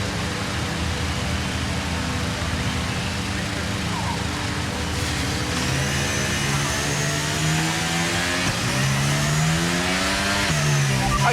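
F1 23 race car in the game pulling away from the race start at Jeddah, its engine revving up through rising gears over a steady loud roar, with a brief tyre squeal.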